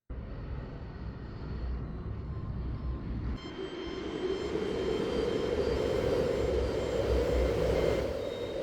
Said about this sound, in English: Now I am going to demonstrate the shaft, how it looks while it moves.